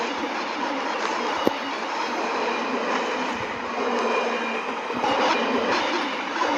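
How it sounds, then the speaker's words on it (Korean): A train running steadily through a ride, with continuous dense rumble and rolling noise, a brief sharp clack, and no voices. "기차 한번 돌려보도록 하겠습니다"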